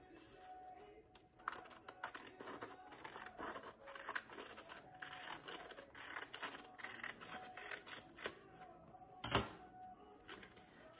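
Scissors cut through a sheet of paper while making a card, giving a string of soft, crunchy snips and rustles at close range, with a sharper louder snip near the end.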